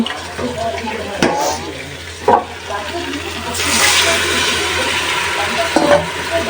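Spice pastes of turmeric, chili, coriander, ginger, garlic and cumin fry lightly in a pan, a sizzling hiss that swells midway, with occasional clanks of stirring.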